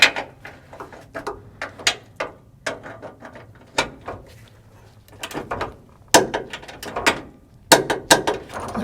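A hand ratchet tightens a rear stabilizer link bolt on a GM SUV such as a Suburban, Tahoe or Yukon, giving bursts of close, crisp clicking strokes separated by short pauses.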